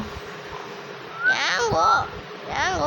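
A cat meows a few times at close range, with short, rising and falling calls over a quiet room background.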